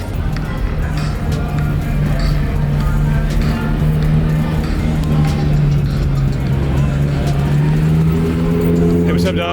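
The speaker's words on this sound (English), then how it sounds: "Y'all probably can hear his car from here." A friend's car rumbles in steadily and loudly at a car meet, its engine droning with rising revs and a throaty exhaust throughout, under people talking.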